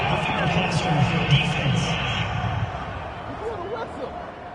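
A stadium crowd in a football video game on PS4 boos and murmurs in disapproval of a penalty call, a steady loud roar under continuous play-by-play commentary.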